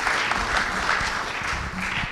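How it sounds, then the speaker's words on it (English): Audience applause at a church youth panel discussion, a dense round of clapping from a roomful of people that stays fairly loud and even through the short burst, with a few scattered voices beneath. "give a round of applause for Will and Eunice for sharing their story"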